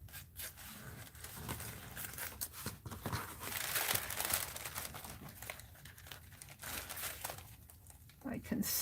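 Paper for a mixed-media art journal rustles and crinkles as it is trimmed, soft close handling sounds and scraping cuts running under intermittent quiet talk.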